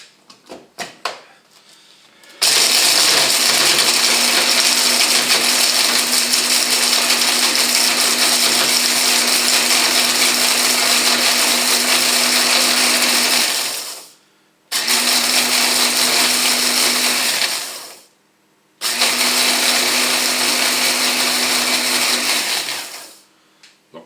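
A kitchen blender whirs loudly and steadily for about twelve seconds, chopping pieces for a fried chicken sauce. It then stops and starts in two shorter bursts, close up, with no talking.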